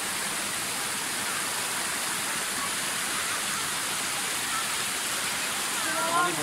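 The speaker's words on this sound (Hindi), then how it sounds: "ये है जी वही झरने का पानी" Rushing water from Patel Waterfall near Rishikesh, a loud, steady broadband roar of falling and flowing water close by, with a faint voice near the end.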